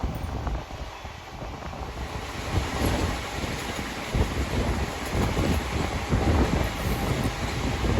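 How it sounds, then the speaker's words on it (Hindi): The Begumpura Express 12237 races at full speed past Birapatti station, a loud continuous roar of wheels and carriages with wind buffeting, sustained and steady throughout. "फ़िलहाल ट्रेन बीरापट्टी रेलवे स्टेशन को फुल स्पीड में स्किप कर रही है।"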